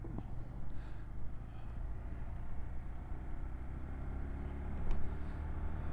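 A 2022 Honda C125 Super Cub's small engine idles and runs on with a low, steady rumble, faint clicks marking shifts into first and second gear.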